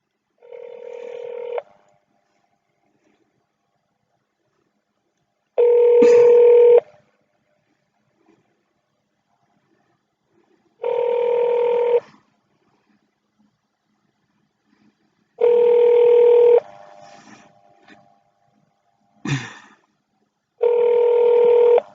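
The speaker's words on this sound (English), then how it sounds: "I'm calling back to the front desk again." A telephone dials a call to a police front desk, heard as a series of five loud, evenly spaced multi-tone keypad or ring bursts separated by silent gaps, with no talking.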